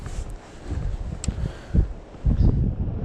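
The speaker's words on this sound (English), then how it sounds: "French's at the moment is very quiet and very windy." Strong westerly wind at French's in East Gippsland, gusting in uneven buffets against the microphone with rustling bursts, loud and close, no voices.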